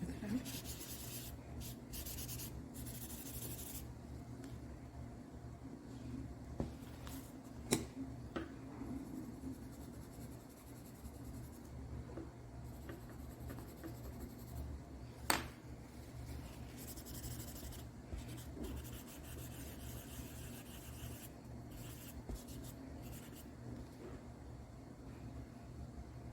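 A white pencil drawing on paper for an optical-illusion sphere pattern, giving a long, steady, close scratchy rubbing with occasional sharper ticks and no talk.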